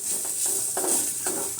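Spices are stirred in a pan for Indian kadhi after coriander powder goes in, a spoon scraping in soft repeated strokes about every half second over a steady bright sizzle of hot oil.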